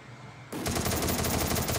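Automatic gunfire in the mobile game Garena Free Fire, starting abruptly after a quiet half second and continuing as a loud rapid burst of evenly spaced shots.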